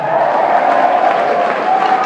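A crowd applauds steadily, a dense wash of clapping that holds at an even level throughout, with a few voices mixed in.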